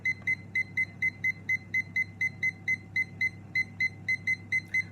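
A kitchen timer sends out a fast, even string of about twenty short, high electronic beeps while it is being set, clear and close against a quiet room hum.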